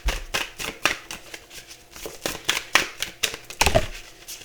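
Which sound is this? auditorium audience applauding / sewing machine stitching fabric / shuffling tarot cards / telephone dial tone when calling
shuffling tarot cards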